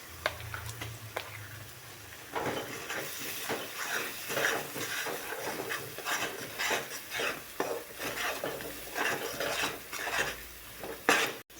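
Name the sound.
ground masala paste added to pan and stirred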